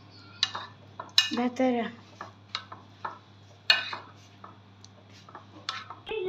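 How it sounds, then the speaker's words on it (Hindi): A metal spoon scrapes and clinks against a pot or bowl while sesame seeds are mixed in home cooking, giving irregular close taps and scrapes under occasional quiet talk and a low background hum. "तो अब इसमें डालने हमने तिल, और अब मिक्स करेंगे चम्मच से ही"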